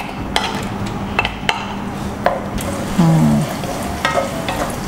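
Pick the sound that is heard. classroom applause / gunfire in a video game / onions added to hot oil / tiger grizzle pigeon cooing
onions added to hot oil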